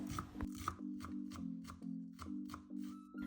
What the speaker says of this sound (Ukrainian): Спочатку нарізаємо зелень. У мене це кріп і зелена цибуля.